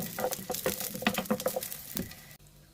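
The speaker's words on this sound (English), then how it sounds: "In the same pan, add 6 cloves of garlic, 1 piece of ginger, stir well till they change their color." Garlic cloves and ginger stirred and fried in a pan, with quiet sizzling under quick scraping, patter-like taps from the spoon, and a brief drop near the end.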